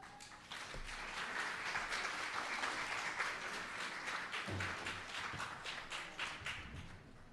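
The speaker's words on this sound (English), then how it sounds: "can I have a round of applause for Dr. Carpenter" Steady audience applause after a lecture on adolescent pregnancy at a women's centre in Jamaica, a dense, even clapping that continues throughout at moderate volume with occasional thumps.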